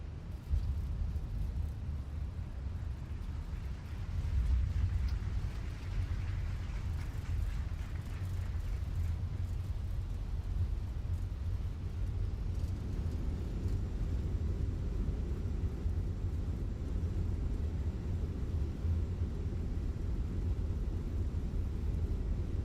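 Airbus A320 thrust reversers roar on landing in Microsoft Flight Simulator, a steady loud broadband rumble that swells after a few seconds and holds through the rollout without talk.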